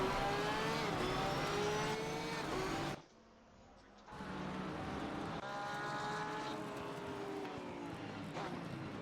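Yellow Porsche race car in Assetto Corsa Competizione at Suzuka, engine loud and close with rising and falling revs through gear changes, a brief near-silent gap around three seconds, then a steady high-revving drone.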